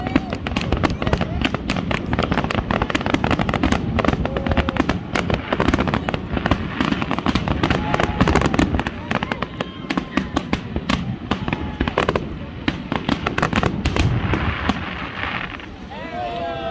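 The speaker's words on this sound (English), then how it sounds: "it all culminates on the 1st of July with a magnificent fireworks display" A Canada Day fireworks display on July 1st crackles and pops in rapid, dense bursts for the whole stretch, with a voice speaking over the booming barrage.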